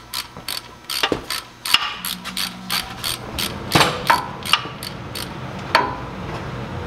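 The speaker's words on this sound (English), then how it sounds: "so let's take this cover off." Ratchet clicks come in quick, uneven bursts as a tool loosens the bolts on a rear brake cover of a Ford 1700 backhoe, sharp metallic ticks close up with short pauses between runs and no talking.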